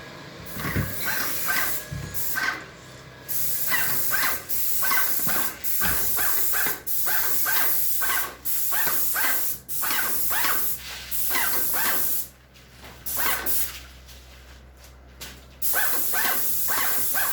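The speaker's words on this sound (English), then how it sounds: "he's spraying our kitchen cabinets" A paint sprayer hisses in steady bursts of a second or so while spraying kitchen cabinets in a garage, separated by short pauses, with a faint low hum underneath.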